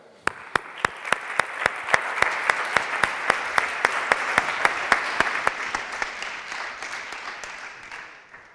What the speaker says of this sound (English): A big round of applause for Assurance.